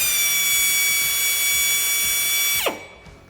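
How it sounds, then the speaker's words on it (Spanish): High-pitched whine of an electric drill spinning steadily to twist three wires together, then winding down with a falling pitch as it stops. "hacemos girar el taladro"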